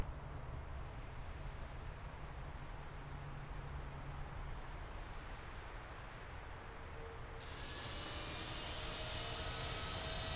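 Jet airliner engines spooling up for takeoff on runway 31 left at New York JFK in the Infinite Flight simulator, a steady broadband roar that swells and brightens near the end, loud and continuous with no talk.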